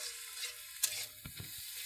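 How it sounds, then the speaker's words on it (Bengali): Light frying in a small amount of oil in a pan for Maggi noodles, a quiet sizzle with a sharp clink and a few soft stirring knocks, no talk. "ওটা হালকা ভেজে নিবা।"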